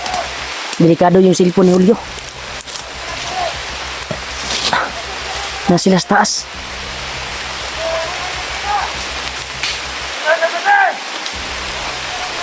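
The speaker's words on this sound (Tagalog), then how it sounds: "Malakas na yung ulan." Heavy rain hisses steadily in the background while people talk over it and a dog barks in short bursts several times, the downpour holding as a loud, even wash throughout.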